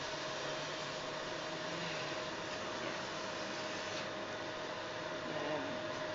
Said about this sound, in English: She's taken an hour to vacuum the house